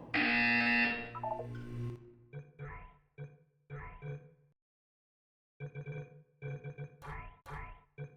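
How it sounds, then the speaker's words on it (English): A loud, steady electronic buzzer from the video game Portal 2 sounds for about two seconds. Several short bursts of a calm synthetic-sounding voice follow, separated by pauses. "You will hear a buzzer. When you hear the buzzer, look down at the floor."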